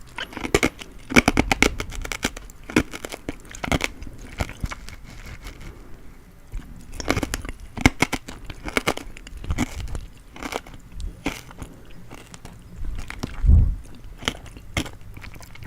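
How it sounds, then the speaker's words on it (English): Candy chewed with the mouth open, close and wet, a steady run of sticky smacks and crunchy bites with a few louder crunches, heard alone with no talking. "I feel weird chewing with my mouth open."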